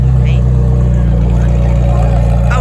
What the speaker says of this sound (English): Oh, it's got an exhaust.